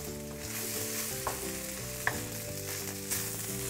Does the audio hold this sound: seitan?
yes